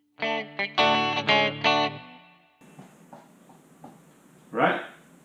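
Rockabilly guitar chords ring out in a short run of strummed, distorted hits for about two seconds, followed by quieter handling noise and a brief scrape.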